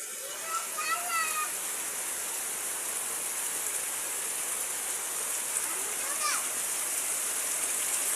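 Steady rain falls in a soft, even wash close by, with a couple of brief bird chirps over the constant patter.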